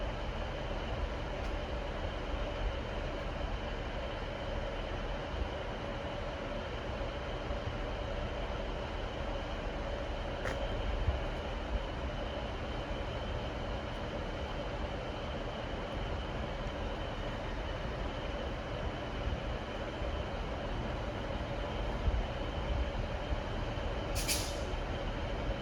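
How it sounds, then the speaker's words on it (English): Class 197 unit 197-001, inbound from Crewe, rolls into Chester station with a steady low rumble and mechanical hum throughout, a faint brake hiss and a short high squeal near the end. "Incoming is the final train in 197-001 again, en route from Crewe"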